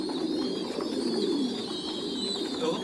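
Pigeons being raised on a Vietnamese farm coo steadily in a low, soft, continuous murmur, with a faint high whine running underneath and no talking.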